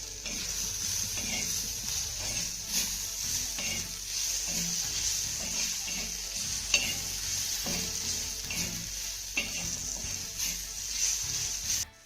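A spoon scrapes and stirs golden roasted coconut and other ingredients around a pan, giving a steady rhythmic scraping over a continuous soft sizzle that stops abruptly at the end.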